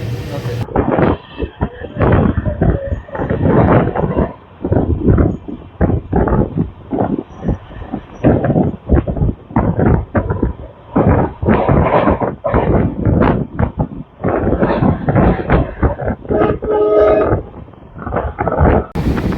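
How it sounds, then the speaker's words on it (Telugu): Onboard a fast train running at about 110 km/h on the new Pamban bridge route from Rameshwaram to Tambaram: loud, rhythmic bursts of rumbling wheel and track noise with wind buffeting throughout. "ట్రైన్ స్పీడ్ అయితే మాత్రం అలా 110కి అయితే తగ్గట్లేదండి."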